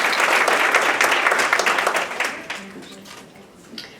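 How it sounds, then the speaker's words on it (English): Audience applause fills a women's summit panel session, dense and sustained for a few seconds before thinning out as a voice begins talking near the end. "A round of applause."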